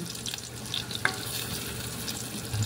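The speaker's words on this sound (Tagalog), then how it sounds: "Igisa ko muna sa butter at saka sibuyas, bawang" Onion and garlic sauté in butter in a pan, giving a continuous close crackling sizzle with occasional soft utensil scrapes and no talk.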